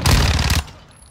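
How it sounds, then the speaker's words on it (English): A light machine gun fires a rapid, sustained burst in a video game, loud and dense for just over half a second before cutting off into quiet background noise. "I think he's using a lightweight machine gun or something"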